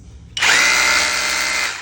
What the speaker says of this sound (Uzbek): Endi mana perforator bor.